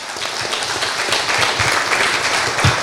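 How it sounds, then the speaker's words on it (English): An audience at a family business conclave gives steady applause, a dense wash of clapping that holds evenly throughout without talk. "Give him a clap."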